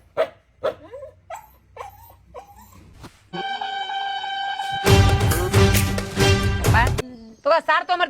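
A dog tied up outside whimpers and yips in short bursts, then breaks into loud, sustained barking and howling close by, with people talking intermittently around it.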